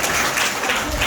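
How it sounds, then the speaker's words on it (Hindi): Schoolchildren clap together in a steady, dense burst of applause that fills the whole moment at close range, with no voices standing out above it. "तालियां बजाइए उनके लिए जिनको लगता है छोटी उंगली है वो हम है।"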